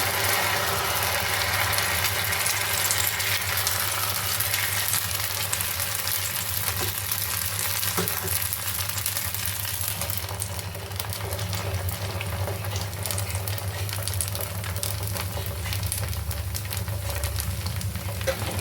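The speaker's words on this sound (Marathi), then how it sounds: "मिश्रण बिड्यावर घालण्याआधी आपण त्याला परत एकदा ढवळून घ्यायचं आहे आणि नंतर ते बिड्यावर घालून पसरवून घ्यायचं आहे" Red rice onion uttapam batter sizzles on a hot griddle, a continuous close frying hiss with steady loudness and a faint low hum underneath, no talk.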